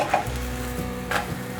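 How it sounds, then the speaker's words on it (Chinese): A toon leaf pancake fries in a little oil in a pan, giving a steady, close sizzle with a couple of brief brighter crackles. "锅内放入少许的油，润锅子，把香椿抓饼放进来煎，把香椿抓饼煎成金黄色"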